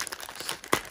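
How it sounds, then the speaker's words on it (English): A basketball card pack wrapper crinkling as it is ripped open, with quick close crackles ending in one sharper tearing burst. "Let's rip this open, see what we can find."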